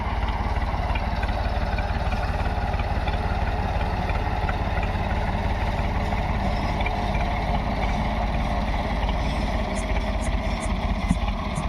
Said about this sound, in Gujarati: ટ્રેક્ટર હલાવે અત્યારે